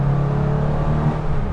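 Porsche 993 RS air-cooled flat-six engine running in the mid-range, a steady, loud and full drone with no break across the whole stretch.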